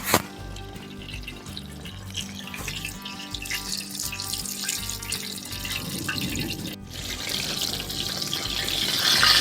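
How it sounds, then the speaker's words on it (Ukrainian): Crucian carp frying in a pan over an open fire, a steady close sizzle and hiss that grows gradually louder and fuller toward the end, with no talking. "Диви, як шиплять."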